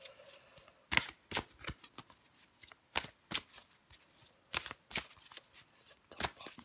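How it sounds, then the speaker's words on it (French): Cards shuffled and drawn for a fortune-telling reading, a run of crisp riffling bursts and sharp flicks in irregular rhythm, close and fairly quiet with no talk. "Je vais encore prendre une carte pour vous."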